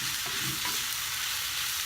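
Shiitake mushrooms sautéing in a hot pan, a dense continuous sizzle with faint stirring scrapes, close and steady throughout.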